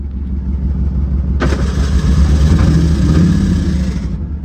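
An old truck with a burnt-out, slipping clutch runs as a steady engine drone, then a raspy, louder whine surges in and holds for several seconds before easing off, with no talk over it.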